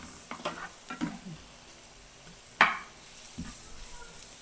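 Oil in a pan frying and sautéing, a soft steady sizzle with a few light clinks and stirring scrapes and one sharper knock, fairly faint and without talk.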